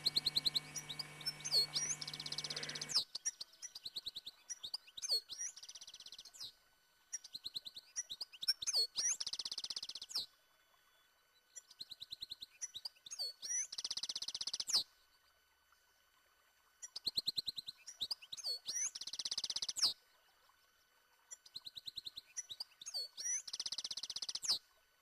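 A European goldfinch in Côtes d'Armor sings bright, twittering phrases of rapid chirps and trills, repeated in bursts separated by short pauses, clear and fairly close with no other sounds.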